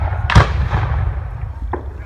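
A cannon fires at a Civil War reenactment battle in Hainesville, Illinois: one sharp booming blast followed by rumbling echo, with a fainter pop about a second later.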